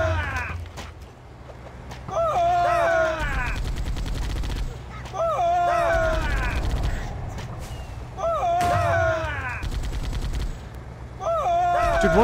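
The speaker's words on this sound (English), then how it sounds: "Did one of them just shoot a rocket up at us?" Bursts of gunfire and a rocket shot ring out in a Halo video game battle, a repeating pattern of loud blasts with whooshing tails, spaced a couple of seconds apart.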